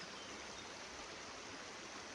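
A river flowing past trees in Sequoia National Park, a steady, even rush of water, soft but constant with nothing else standing out.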